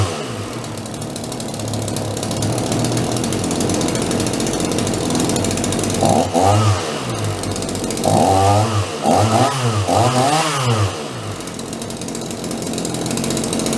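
A Champion chainsaw engine runs close and loud throughout, idling steadily, with several brief revs rising and falling toward the end after its low-speed carburetor screw is adjusted.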